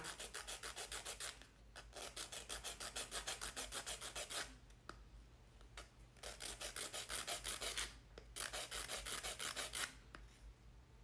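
Rapid rhythmic rasping of a file scraping across an acrylic nail, close up, in quick bursts separated by short pauses.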